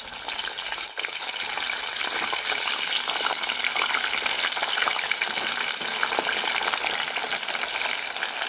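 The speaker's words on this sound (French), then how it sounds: "je vais venir la retirer pour la faire frire" Meat frying in hot oil while cooking a West African rice dish with soumbala, a steady close sizzle with bubbling and crackle that runs unbroken throughout with no talk.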